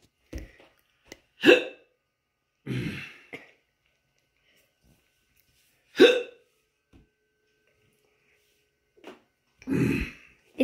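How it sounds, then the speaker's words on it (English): Repeated close hiccups from a person, about five sharp sudden catches in the throat at irregular intervals of one to four seconds, with near-silence between and no speech. "Do you really have the hiccups?"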